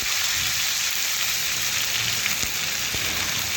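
Vegetables for a pumpkin curry fry with turmeric and red chilli powder in a hot pan, giving a steady, dense sizzle like rain that runs unbroken, with a few faint clicks of stirring and no voices.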